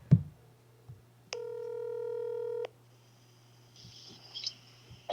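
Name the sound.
telephone dialing a call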